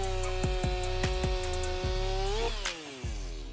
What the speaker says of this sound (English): The Steel MS500i is an advanced chainsaw designed to conquer huge blocks of wood with